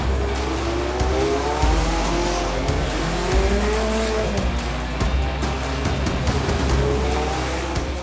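A Kimera sports car engine runs loud and steady close by, revving continuously with rising and falling tones throughout, no voices.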